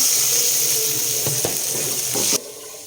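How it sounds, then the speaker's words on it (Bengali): Water is poured into a cooking pot of oil for chicken bhuna, a steady rushing splash with a few clinks that stops abruptly near the end. "এখন পানি দিয়ে দেব।"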